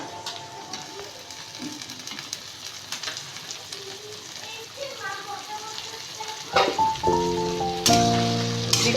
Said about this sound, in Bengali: এদিকে পেঁয়াজটা ভাজা হচ্ছে পেঁয়াজটা ভাজা হয়ে গেলে দিয়ে দেবো টমেটোটা